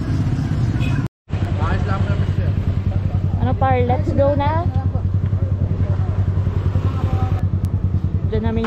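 Motorcycle engine running steadily for a ride on Polillo Island, Quezon Province, a constant low rumble under several people talking and calling out, with a brief cut near the start.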